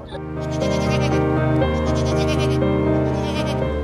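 Goats bleat loudly and continuously at a crowded livestock market near Jama Masjid before Bakrid, with overlapping long, wavering calls from several animals close by.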